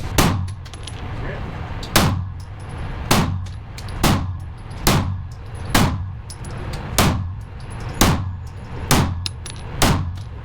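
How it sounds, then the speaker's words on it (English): A small handgun fires about ten evenly spaced shots at a distant target on an outdoor shooting range, each a sharp, loud crack roughly one second apart, with no talking between them. "Realistically, it is a long ways to be shooting with a little handgun."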